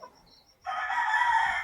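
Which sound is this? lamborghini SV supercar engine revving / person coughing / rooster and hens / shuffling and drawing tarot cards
rooster and hens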